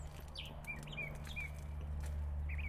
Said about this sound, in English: Oh my gosh, the birds are incredible.